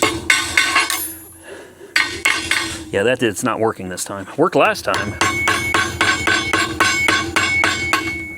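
Repeated hard metallic hammer blows on a stuck valve stem in a Dodge Charger R/T wheel, loud and close, arriving in bursts with a brief pause, while someone talks in between.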